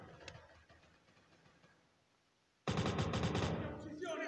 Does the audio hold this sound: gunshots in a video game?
yes